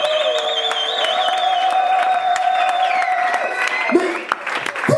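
A church congregation applauds continuously, a steady dense patter of many hands clapping. Singing and voices carry on over it throughout.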